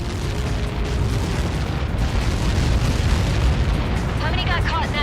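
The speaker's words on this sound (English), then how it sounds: "How many got caught in that explosion?" A huge explosion in the video game Ace Combat 7 rolls out as a dense, sustained booming rumble, with speech overlapping in the mix.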